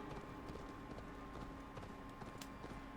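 Horse hooves clip-clop in the video game Assassin's Creed Valhalla, a steady, quick rhythm of hoofbeats under faint game ambience at low volume.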